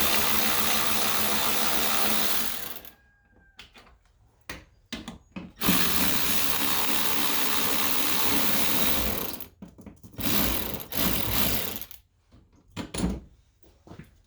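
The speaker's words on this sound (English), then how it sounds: "I break it loose with a wrench, and then I use this 1/4 inch battery ratchet." A 1/4 inch battery-powered ratchet with a swivel attachment, used during a center roller replacement on a 2005 Honda Odyssey, spins in long loud whirring bursts broken by short stop-start pulses, close by with no talking.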